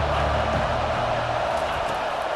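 A college football stadium crowd roars in a video game as the noise builds on third down, a dense, sustained wall of cheering voices with a low hum underneath.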